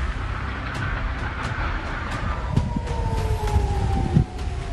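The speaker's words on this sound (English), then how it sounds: "air sirens," Air raid sirens wail across Israel, a long rising and falling tone sounding from a distance over a low rumbling background with a few scattered thuds.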